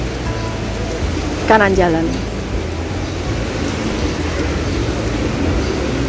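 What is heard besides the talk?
rain falling outdoors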